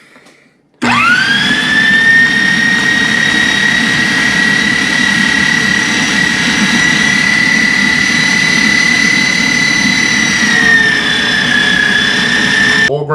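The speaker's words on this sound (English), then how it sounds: "This thing worked pretty good, this grinder." An electric meat grinder runs loud and steady, grinding chuck roast for burgers with a continuous high motor whine that starts abruptly, holds for about twelve seconds and dips slightly near the end.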